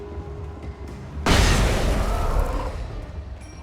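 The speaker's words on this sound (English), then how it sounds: "I'm gonna use the flashbang." Flashbang grenade detonating in Alan Wake Remastered, a single sudden loud boom that bursts in and decays slowly into a sustained roar over about two seconds.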